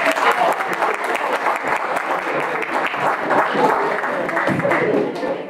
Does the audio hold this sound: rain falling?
no